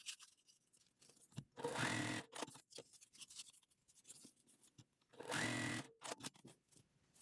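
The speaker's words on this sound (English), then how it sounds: "I'm going to sew the white ones onto here just to make life easy" A sewing machine stitches quilt pieces together in two close, fairly quiet bursts of rapid whirring, separated by soft handling and fabric sounds.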